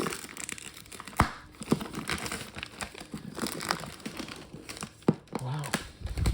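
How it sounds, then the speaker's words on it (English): A portable screen is pulled from crinkly plastic packaging, giving a steady run of close rustling and crinkling with a few sharper tearing snaps, while a person speaks over it. "I'm trying hard not to over manhandle this thing, but it's coming out of this packaging."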